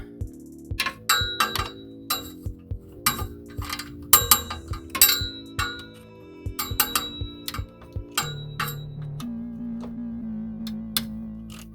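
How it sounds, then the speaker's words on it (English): Hand tools work the oil pan bolts on a Land Rover LR3, giving irregular sharp metallic clinks, clangs and ticking ratchet sounds up close, ending in a steadier low hum. "Now you're going to start taking off the bolts that surround the pan."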